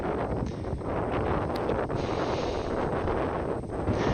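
Strong gusty wind buffets the microphone on an open disc golf course at a farm during a tournament round, a constant loud low roar with rustling and no speech.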